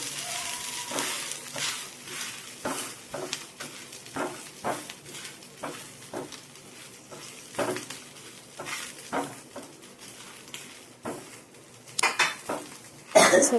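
Leftover idli frying in oil on a pan, with repeated clinks and scrapes of a utensil against the pan over a light sizzle, fairly close and in an uneven rhythm.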